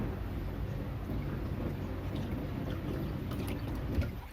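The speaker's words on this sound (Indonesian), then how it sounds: "otomatis langsung berputar ya mesin," A modified twin-tub washing machine, converted to run automatically, agitates its load back and forth with a steady churning rumble and sloshing water throughout; no one speaks.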